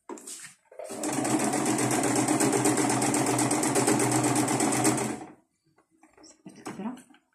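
Sewing machine stitching a zipper on a vinyl-like spoon pouch, a steady close rapid whir lasting several seconds, with brief talk before and after.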